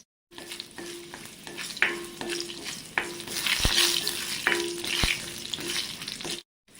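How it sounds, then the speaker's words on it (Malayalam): Mustard seeds, fenugreek and two dried chillies fry in hot oil for a sambar tempering, a close, lively crackling sizzle broken by several sharp pops and spatters, with no voices. "സാമ്പാറിന് കടുക് വറുക്കാൻ പോവാണ് കേട്ടോ."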